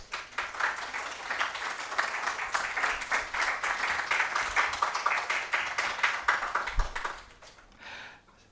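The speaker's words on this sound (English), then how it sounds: "Let's give them a round of applause." Audience clapping for panelists at an academic conference session, a sustained round of many hands at a moderate, even level that holds for several seconds and then quickly tapers off into near silence.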